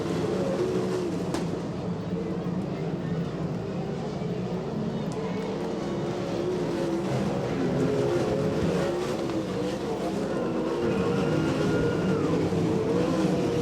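Race cars battle on a track during a championship points race, a sustained roar of engines at steady distance throughout, with a commentator talking over it.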